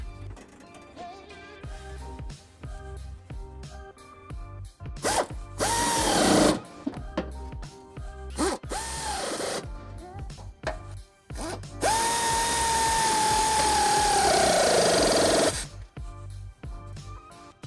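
Power tool driving nuts onto the heat shield of a 2018 Kia Optima, several short whirring bursts followed by a longer sustained run, close and fairly loud, with a quiet pause between each burst.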